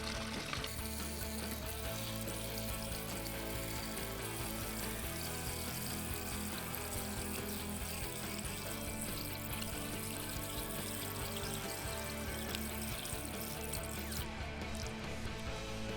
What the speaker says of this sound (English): just to wash your filter out gently. Don't use high pressure, just a low pressure, cool water